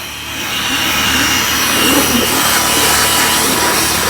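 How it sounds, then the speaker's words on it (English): A steady, loud motorized whirring of a drill brush scrubbing a car interior, running continuously without a break and with no voices. "really quickly, I'm gonna attack it using my drill brush"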